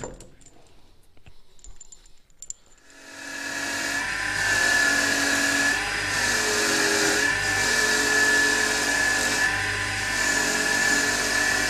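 A bolt being given a high polish ahead of zinc electroplating, a loud steady machine whine that starts up after a quiet few seconds and holds continuously to the end, with slight pulsing.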